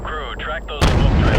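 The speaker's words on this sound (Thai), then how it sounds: "ปืนใหญ่ไปเลย" A heavy cannon blast from an AC-130 gunship in a video game booms out loud and close, following a tonal whine, with a rumbling roar trailing after the shot.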